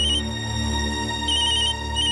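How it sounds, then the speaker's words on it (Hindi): A phone rings with a steady electronic ringtone, loud and close, its repeating high tones pulsing in a regular pattern. "तुम्हारा फोन बज रहा है"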